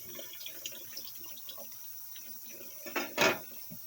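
Water from a tap splashes over raw pork chops being washed in a sink, with soft trickles rising to two brief louder gushes near the end, close and fairly quiet.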